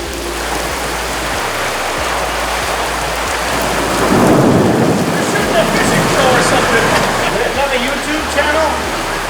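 A heavy thunderstorm over a lake during a musky fishing trip, with dense steady rain hissing loudly on the water and a deep rumble of thunder swelling near the middle, voices faintly audible under the downpour.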